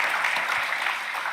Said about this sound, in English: Clap that up, guys. Clap that up.